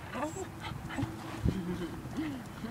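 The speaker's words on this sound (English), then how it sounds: "Aini, are you fussing at Gemma?" A dog whimpers and fusses at another dog with thin whines and small yips close by. Light panting and a thump sit under a person talking.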